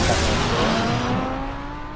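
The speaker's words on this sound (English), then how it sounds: "Suena como un Ferrari 458." A Ferrari 458 engine in a Batman game, revving loud and close with a steady whine that gradually thins and fades as the car pulls away.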